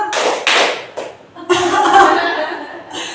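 An audience of women claps in bursts during a rhythmic clap game, loud and close, with chuckles and voices mixed in between the claps.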